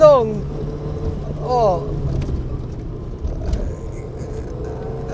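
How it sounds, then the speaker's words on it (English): Peugeot 205 petrol engine blipped in a heel-and-toe downshift, two quick rising revs near the start and again around a second and a half, over steady cabin road noise. "enjoy the 205 a little bit, and give it a heel and toe"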